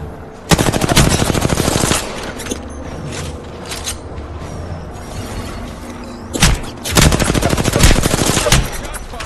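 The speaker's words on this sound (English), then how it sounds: "Shots fired, and they're hitting me." Automatic gunfire in Apex Legends comes in two long, loud rapid bursts, one near the start and another later, with quieter mechanical clicks and thuds in between.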